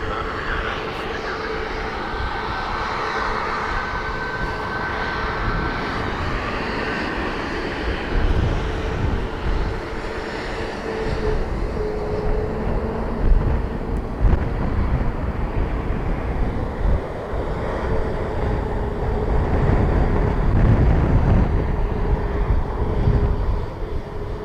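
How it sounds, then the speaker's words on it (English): A FedEx jet's engines roar at Dublin Airport as it aborts its takeoff, a loud, sustained jet rumble that swells gradually and stays heavy throughout. "looks like a rejected takeoff."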